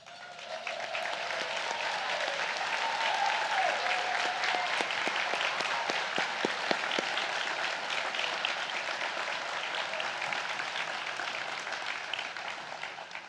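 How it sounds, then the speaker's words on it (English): A breakfast-event audience gives Denver Kids students a round of applause, a dense, steady wash of many hands clapping that rises quickly and holds strong throughout. "All Denver Kids students, please stand so we can give you a round of applause."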